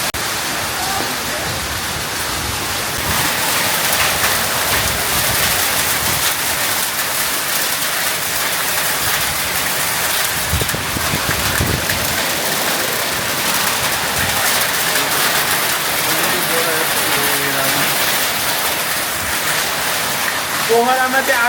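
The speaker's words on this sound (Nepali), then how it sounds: "पोखरामा चाहिँ आज चाहिँ एकदमै बबाल पानी परेको छ एकदमै ठुलो परेको छ पानी चाहिँ र पोखराको धेरैपछि असिना पनि परिरहेको छ" Heavy rain with hail pours down in Pokhara, a loud, steady broadband roar of water hitting surfaces that continues without pause, with a faint voice near the end.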